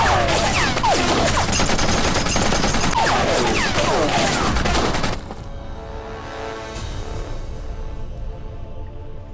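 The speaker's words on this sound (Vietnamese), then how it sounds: "Tiểu Lưu, bắn" Dense, continuous gunfire from a Chinese anti-Japanese war film, loud and chaotic for about five seconds, then cutting abruptly to a quieter, fading rumble.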